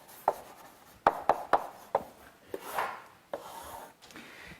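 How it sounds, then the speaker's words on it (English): A marker or chalk tapping and stroking across a board while a curve is sketched, several sharp short taps followed by a brief scraping stroke, close and fairly quiet with no talk. "now I'm ready to sketch at least a part of the curve"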